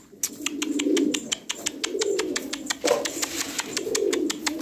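Domestic pigeons coo in several soft, rolling low phrases, close by and repeating, under a fast sharp ticking and clicking in the background.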